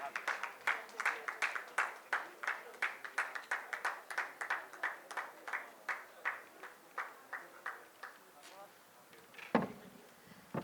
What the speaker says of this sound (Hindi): जोरदार तालियों से मैम का स्वागत कीजिए